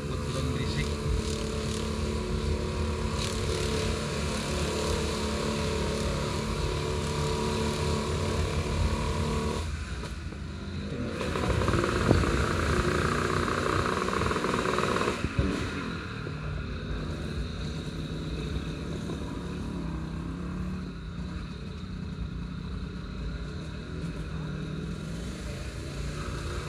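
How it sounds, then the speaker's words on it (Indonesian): A motorcycle with a loud aftermarket exhaust rumbles behind on a quiet street near a shopping plaza in Bukittinggi, a steady engine drone with a louder swell midway, mixed with other traffic noise. "Di belakang ada motor knalpot brong berisik."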